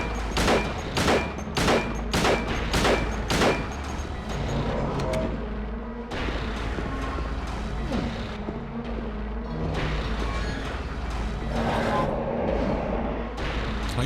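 Rapid burst of about six loud gunshots from Silent Hill 2 in quick succession, then a dense rumbling game soundscape of low booms and noise carrying on without any further shots.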